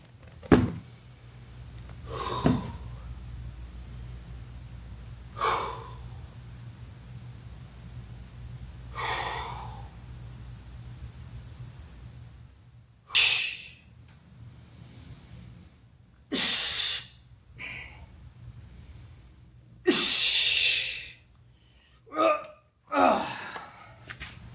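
Sharp, forceful breaths and gasps punctuate a bench press set in a gym, irregular bursts spaced a few seconds apart, growing louder and closer together toward the end, with no talk.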